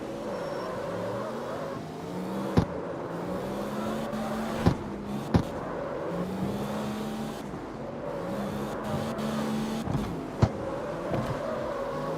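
A street car's engine rises and falls in CarX Street, repeatedly revving up and easing off through a series of turns, with a few sharp knocks from scraping the wall. The engine is steady and close, and no one talks.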